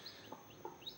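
A hen clucks nearby in a few short, soft calls over a quiet background, all within about a second, with no talking.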